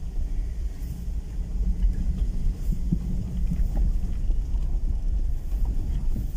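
A Honda CR-V rolls down a rocky mountain road near Granada in gear, its steady low engine and road rumble continuous throughout with wind buffeting the microphone.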